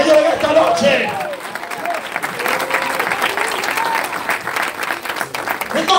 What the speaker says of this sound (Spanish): denle un aplauso que lleguen esta noche